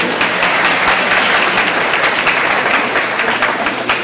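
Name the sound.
audience clapping at an honor society induction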